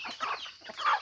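Breeder hen clucking close by, two short soft bursts of clucks in quick succession.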